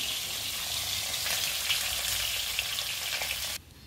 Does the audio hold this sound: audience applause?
no